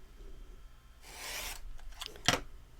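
A rotary cutter slices a 4.5 inch fabric strip for a quilted rug in one short, soft rasping stroke, followed by a brief sharp tap. The sound is close, with no talk.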